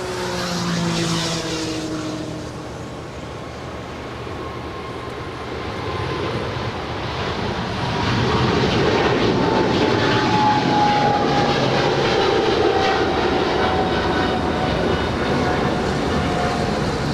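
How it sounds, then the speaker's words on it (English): An All Nippon Airways Boeing 777-300ER, three years old, taking off at Los Angeles International Airport, its engines a broad roar that swells louder over the second half, heard from a distance without talk. "Off goes All Nippon Airways Flight 5 to Tokyo Narita. It's a 3-year-old 777-300ER."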